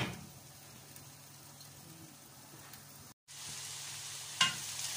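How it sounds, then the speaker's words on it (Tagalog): Carrots and cabbage frying in a pan for pancit canton, a steady soft sizzle with faint crackles throughout, briefly cut off and then resuming brighter, with a small clink near the end. "nailagay ko na yung carrots natin at cabbage. So hintayin natin maluto siya ng konti lang"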